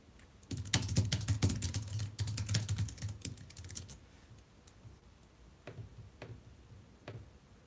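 A reply is typed on a computer keyboard in a quiet room: a dense run of close key clicks for about three seconds, then a few scattered, slower taps.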